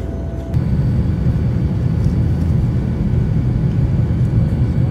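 Steady, loud cartoon airplane engine drone in flight, a continuous low rumble that starts abruptly and holds evenly with no talking.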